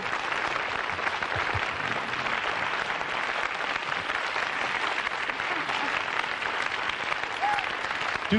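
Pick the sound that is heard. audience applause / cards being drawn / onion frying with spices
audience applause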